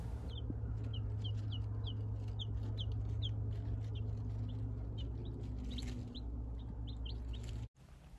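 A newly hatched chick peeps in a rapid series of short, high chirps, close and clear over a steady low background hum that cuts off near the end.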